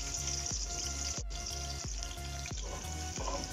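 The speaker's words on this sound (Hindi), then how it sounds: "प्याज को हमने लाइट सा कलर आने तक फ्राई करना है।" Onions frying in about a cup of hot oil for a chicken yakhni pulao, a loud, steady sizzle with rhythmic scraping strokes of a spoon stirring the pan, close up and without talk.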